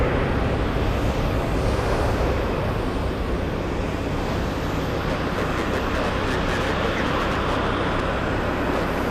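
A jet takes off at Boston Logan Airport, its broad, steady roar filling the air at a distance and holding constant throughout.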